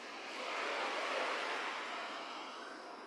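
Heavy rain in Texarkana falling on a tin roof makes a steady hiss that rises slightly and then eases, with no separate drops standing out and no voices.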